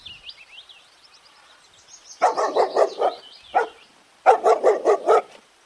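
A dog barks in two quick bursts of four or five sharp barks each, loud and close, after a faint high whine.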